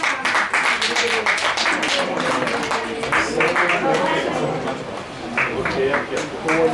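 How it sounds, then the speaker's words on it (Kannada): Audience applause at an honouring ceremony during an auditorium anniversary event, with dense, sustained clapping from a crowd filling the whole stretch at steady loudness, voices mixed in. "ಚಪ್ಪಾಳೆ ಬರಲಿ."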